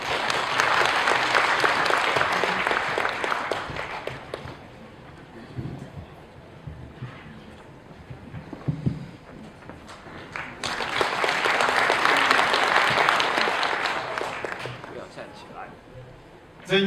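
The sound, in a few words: audience applause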